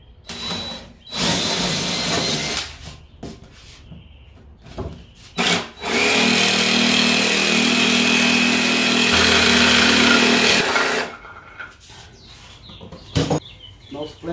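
A power saw cuts wood for a DIY cornhole board, with loud bursts of motor whine followed by one long sustained cut, then the motor winds down into quieter stretches and short knocks.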